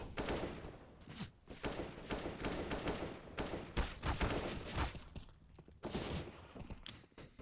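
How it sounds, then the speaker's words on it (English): Gunfire in a professional Counter-Strike match on the Inferno map, with dense, overlapping bursts and single shots in quick succession from several weapons, loud and close, no talk over it. "Did Artfrost just shoot his teammate in panic?"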